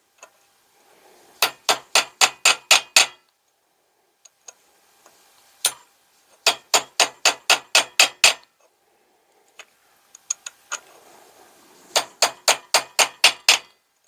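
A hammer taps metal in quick rhythmic bursts of about six sharp, ringing strikes each, separated by pauses with a few isolated taps, while dimples are set in a 7.25 inch gauge BR Standard 2 locomotive build.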